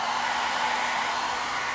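A powerful hotel hair dryer blowing steadily while drying hair, loud, close and unbroken, with no voices.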